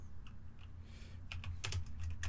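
Typing on a computer keyboard: quiet, close keystrokes in a quick burst after a brief near-silent pause, with no talk.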